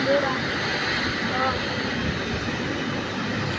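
A large Saudi Airlines airliner at a Bangladesh airport blows air from its jet engine, a loud, steady, close rush and roar that holds evenly from start to end.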